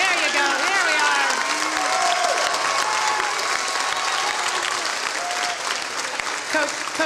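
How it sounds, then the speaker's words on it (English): Audience at a 2021 school athletic awards presentation applauds SML coaches, loud steady clapping with some cheering carrying through the whole stretch while someone speaks over it. "But please give a round of applause to our SML coaches."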